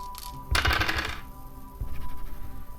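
Dice rolled and rattling onto a hard surface for numerology forecasting: a bright clattering tumble of small hard objects, close and crisp, then a few softer knocks as they settle.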